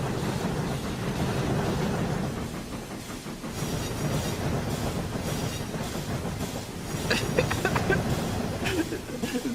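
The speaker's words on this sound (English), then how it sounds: "Agonizingly slow train footage, my favorite." A slow-moving train rumbles past in played footage, a steady low rolling roar with faint wheel clatter and occasional high metallic squeals near the end, continuous throughout.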